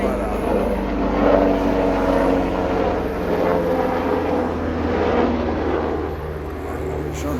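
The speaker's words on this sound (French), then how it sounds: "Ah, il y a un hélicoptère là-bas." A gendarmerie helicopter flies past at a distance, its steady low rotor and engine drone filling the whole stretch, with people talking quietly outdoors over it.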